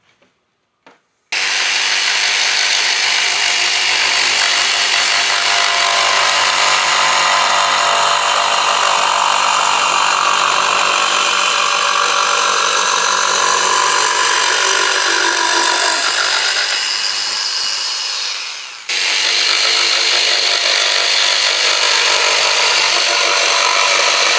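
A vintage Black & Decker 7504 jigsaw with a coarse blade saws steadily through wood for about seventeen seconds, loud and close, then stops briefly before cutting resumes.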